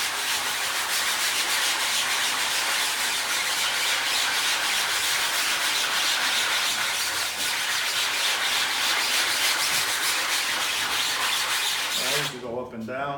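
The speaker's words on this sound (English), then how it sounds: "I like to do the emulsion with the hard one. And I want you to scrub, start from the top." A hard brush scrubs emulsion remover across a screen-printing screen in a steady, continuous rasping rub, loud and close throughout, easing off near the end.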